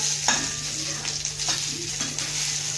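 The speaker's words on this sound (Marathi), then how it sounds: "त्यात हुरडा टाका एक चमचा तेल टाका दोन ते तीन मिनिटापर्यंत हा हुरडा व्यवस्थित परतवून घ्या" Hurda, tender sorghum grains, stir-frying in a spoonful of oil in a kadhai, a close steady sizzle punctuated by about five rhythmic stirring scrapes of a spoon against the pan, with a low hum beneath.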